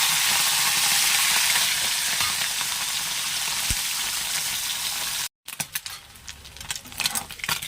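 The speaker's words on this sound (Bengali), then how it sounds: "কড়াটা গরম করে নিয়ে আমি কি করেছি তেল দিয়ে দিচ্ছি আর মাছ মাছগুলোকে ভালো করে ভেজে নেবো" Small mourala fish frying in hot oil in a kadai, a loud continuous sizzle that runs steadily, breaks off with a brief gap, then returns as sputtering, crackling pops.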